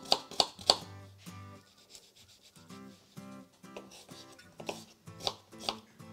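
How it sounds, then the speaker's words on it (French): Knife chopping onions on a cutting board for stuffed tomatoes, a quick burst of three sharp chops followed by scattered, irregular cuts and scraping, close and clear with no talk. "Je hache maintenant les oignons."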